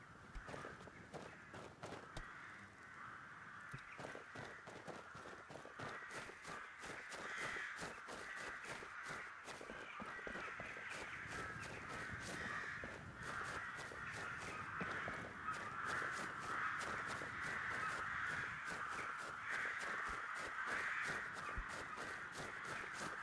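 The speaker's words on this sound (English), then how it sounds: "these crows are fucking loud" Crows cawing in the video game Skyrim, a dense, loud, continuous chorus of harsh repeated caws from several birds, with faint footstep-like sounds beneath, lasting throughout.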